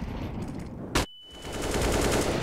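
Gunfire in Counter-Strike during a professional match on the Anubis map: a single sharp, loud shot stands out above steady background game noise and a brief ringing tone, with no commentary over it.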